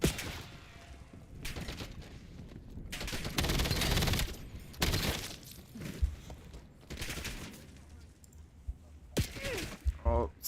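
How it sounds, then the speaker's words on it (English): Bursts of rapid video game gunfire come in several loud volleys, with short gaps between them and a person talking over parts of it. "Oh, stop shooting at me."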